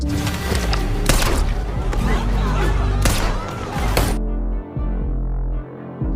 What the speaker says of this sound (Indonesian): dan baku tembak pun kembali terjadi